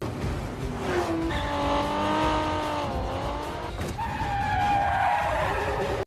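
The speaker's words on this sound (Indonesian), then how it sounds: "tiba-tiba muncul 3 mobil yang melaju dengan kencang." Cars race and skid in a Fast Five film scene: engines roar loud and continuous while tires squeal in long rising screeches, one sharp burst near the middle and another sustained squeal toward the end.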